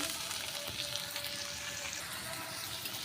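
Chopped onions sizzling in hot oil in a pan for a wedding-style tarka, a dense steady frying hiss with faint stirring scrapes, close and even throughout, no voices.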